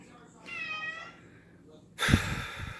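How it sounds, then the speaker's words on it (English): A house cat gives a single faint, drawn-out meow in a quiet kitchen, followed by a loud bump or clatter nearby. "It's the cat."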